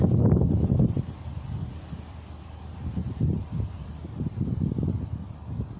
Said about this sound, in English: the wind's just blowing it back down again